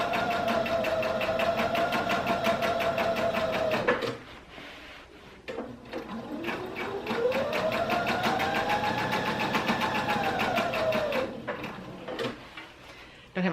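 A sewing machine runs in long stitching bursts while sewing fabric for a tree skirt, its motor whirring steadily with a pitch that dips and rises, pausing briefly between passes.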